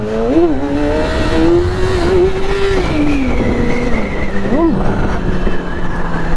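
A Yamaha R6 sport bike engine revs hard in first gear during a wheelie, a loud rising and falling whine that climbs and holds, then dips and surges again.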